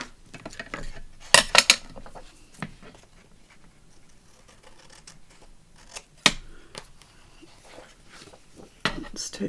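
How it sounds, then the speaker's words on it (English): Scissors trim paper and bran flake cereal box cardboard in a run of quick, close snips, some sharp and loud, with quieter cutting and handling between them. "So now I can trim right round this and even trim that bit of bran flake box off that's a bit errant."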